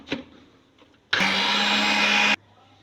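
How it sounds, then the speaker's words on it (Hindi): A blender whirs loudly and steadily for about a second, mixing gram flour into lassi, after a few faint clatters in the kitchen. "इसको हम इसके अंदर डाल देंगे ब्लेंडर में और इसको ब्लेंड कर लेंगे"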